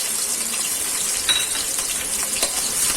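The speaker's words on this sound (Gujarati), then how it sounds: "મરચું ને લસણ સાતળાઈ ગયું છે" Chopped garlic and green chili sautéing in hot oil for an Indian-style tomato pasta, a constant close sizzle with soft stirring scrapes and a couple of brief metallic taps.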